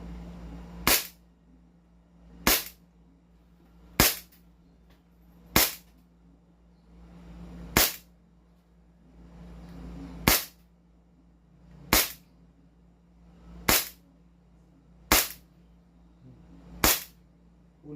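A Kimber 1911 pistol fires ten evenly spaced sharp shots, each loud crack standing alone over a low steady hum, with roughly one and a half seconds between rounds.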